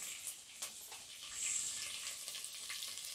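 Crushed garlic sizzling in hot oil for a village-style katachi amti, cooked over a wood-fired chulha, giving a steady, close, hissing crackle throughout with no talk.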